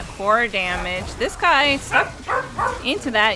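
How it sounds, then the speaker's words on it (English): Several dogs barking and yipping in the background during an esports match commentary, short excited bursts mixed under continuous, overlapping speech from the caster. "You can hear my dogs barking in the background."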